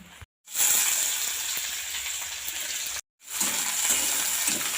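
Oil and sugar sizzle loudly in a pan for a Bengali chicken kosa with homegrown papaya, a bright steady hiss broken by two brief silent gaps, with no voices.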